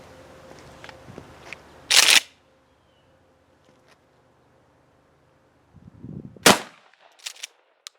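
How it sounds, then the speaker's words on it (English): Mossberg 590 Shockwave shotgun firing Remington 27-pellet number 4 buckshot: two loud, sharp blasts several seconds apart, each with a short outdoor echo, followed by a few fainter clicks and knocks. "here goes the Remington 27 pellet number 4 buck"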